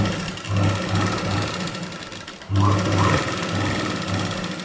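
Sewing machine stitching a layer of blouse lining fabric, a steady mechanical whir in two bursts with a brief pause between, close and continuous, with no talk.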